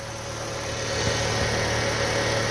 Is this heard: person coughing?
no